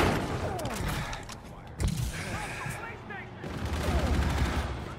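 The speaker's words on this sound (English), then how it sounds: "Oh, I've just been shot in the back." Bursts of Call of Duty: Infinite Warfare gunfire hit the player, with a heavy impact thud midway and rattling shots before and after amid dense battle noise.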